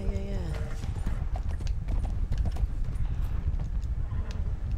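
Horse hooves clip-clop in the video game Fallout 76, a quick, steady run of close hoofbeats with a short whinny-like tone at the start.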